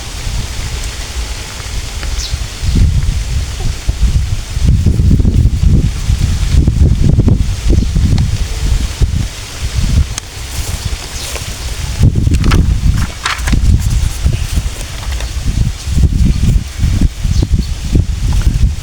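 Wind gusting through the leaves of a large bodhi tree, a loud rushing rustle that swells and fades in waves, with heavy buffeting on the microphone and no voices.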